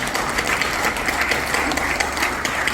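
Audience applause at a breakfast seminar lecture, honoring young future leaders: steady, dense clapping sustained throughout, filling the room at moderate loudness without talk over it.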